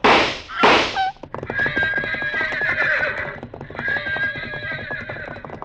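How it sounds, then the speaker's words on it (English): Pack horses whinny loudly and repeatedly, shrill and close, over a rapid clatter of hooves, after two sharp gunshots at the start. "The pack horses reared at the shots."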